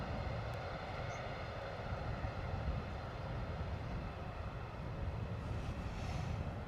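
An EasyJet Airbus A321neo arriving from Istanbul lands at London Stansted, its jet engines producing a steady, broad roar at moderate distance throughout.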